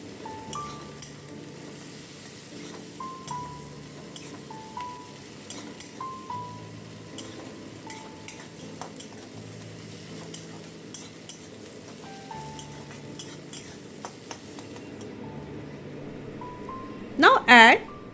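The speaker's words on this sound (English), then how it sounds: "Fry until it is golden in color." Sliced onions frying in oil in a pan for Bengali crab curry, a soft continuous sizzle with occasional spatula scrapes and clinks, fairly quiet, ending with a brief sharper clatter of utensil on metal.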